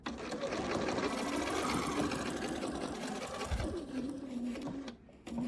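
A sewing machine runs steadily through black fabric binding on a potholder, its fast needle whir continuous for several seconds before briefly dropping off near the end.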